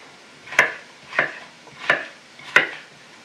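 Four sharp knife chops through potatoes on a board, evenly spaced about every two thirds of a second, close and distinct, while preparing cabbage soup.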